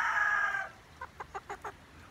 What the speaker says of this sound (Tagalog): Malaking manok po ito